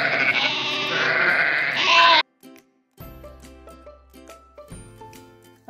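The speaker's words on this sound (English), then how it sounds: "A sheep says bae." A sheep bleats loudly and close up for about two seconds, followed by quieter scattered clinks and knocks.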